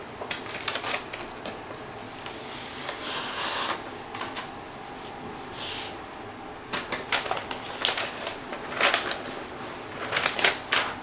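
A cloth-covered ruler is pressed down and slid across tattoo paper, making dry scraping and rustling strokes that come in irregular bursts, loud and close with no talk.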